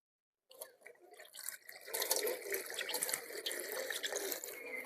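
Water running and splashing as a pet's dirty drinking water is poured out and replaced, starting after a brief silence and building into a steady, fairly faint flow with small splashes and drips.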